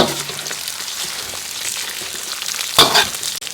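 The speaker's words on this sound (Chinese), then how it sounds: "葱姜大料给它煸香" Scallion, ginger and star anise sizzle in hot rendered pork fat in a wok, a steady crackling fry with a louder burst of spattering near the end.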